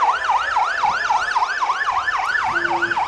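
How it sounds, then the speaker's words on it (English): Pequot Lakes Fire Department trucks in a St. Patrick's Day parade in Crosslake, sirens wailing loudly in a rapid rising-and-falling cycle, close by, with a brief horn blast near the end. "We just might as well not even talk during the sirens."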